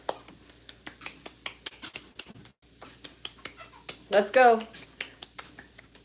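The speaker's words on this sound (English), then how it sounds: "I need a round of applause. Everybody. I need to see claps." Sparse, sharp claps from a small audience land one at a time at an irregular pace, close and distinct rather than blended, while a voice speaks over them.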